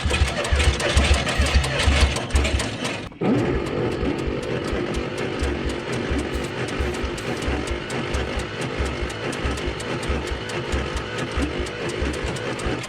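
A Bombardier Snow-Cat plow long left parked catches with a burst of cranking, pauses briefly, then settles into a steady, loud, rough idle with a mechanical chatter that continues to the end.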